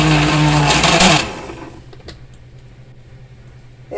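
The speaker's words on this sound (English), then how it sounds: "There's something going on with my blender, I think. It may be time for a new one." A kitchen blender that seems to be faltering whirs loudly while pulverizing pumpkin pulp, then cuts off after about a second, leaving a low hum and faint clicks before it starts again at the end.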